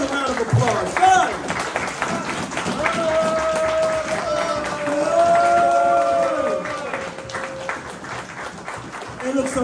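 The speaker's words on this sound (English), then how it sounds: "And give yourselves a round of applause" A gathered family crowd at a Hanukkah celebration claps and cheers, a steady wash of applause mixed with overlapping voices and talk throughout.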